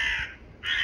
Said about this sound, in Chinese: 乌鸦叫